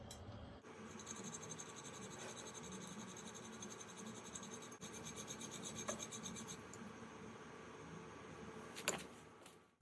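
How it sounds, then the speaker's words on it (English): A chisel is honed on a Veritas sharpening system wet with honing fluid, giving faint, steady rasping and rubbing strokes that continue evenly throughout, with a small tap near the end. "this is again the new micro Veritas system for sharpening the chisel"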